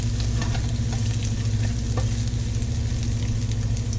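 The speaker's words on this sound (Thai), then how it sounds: "ผัดพริกให้มันหอมนะคะกับกระเทียม" Red chili and garlic stir-frying in a hot pan, a steady loud sizzle with a constant hiss and faint scraping throughout, no voices.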